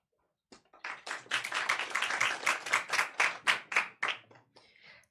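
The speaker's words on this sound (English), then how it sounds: "It's very weird to be in a place where people clap before you speak" Audience at a finance seminar breaking into applause, starting with a few scattered claps that swell into a lively round of many hands before trailing off into a few final claps.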